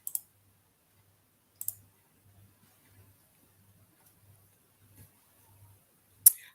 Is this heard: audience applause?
no